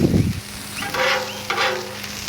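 Vegetables for an omelette cooking on a Blackstone griddle, sizzling steadily at close range, with a couple of brief surges of louder frying and light scraping, no voices.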